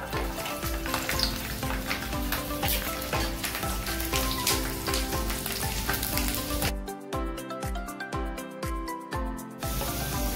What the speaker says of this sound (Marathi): इथे गोल्डन ब्राउन होईपर्यंत लसूण आपण तळून घेतलाय